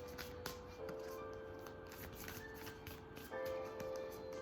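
A Moonology oracle card deck is being shuffled by hand. The cards riffle and slide in a quick, soft, continuous flutter, close to the listener, with no talk.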